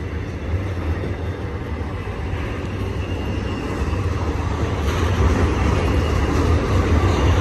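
A steady, loud low rumble of a BNSF freight train carrying FedEx trailers rolling past at Cajon, building slightly toward the end, with no talking.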